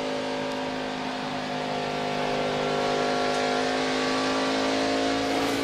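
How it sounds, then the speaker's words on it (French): A NASCAR Sprint Cup race car at Pocono in 2009 accelerates out of a corner, its engine a loud, steady, sustained roar with a rising drone throughout and no talking. "Là, il met les gaz en sortie de virage."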